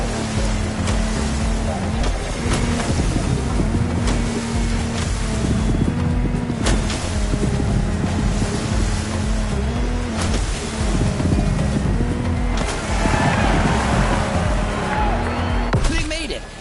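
A Lamborghini Technomar speedboat races across the water in the video game The Crew Motorfest. Its engine drones loudly and continuously, and its pitch shifts now and then over rushing wind and spray.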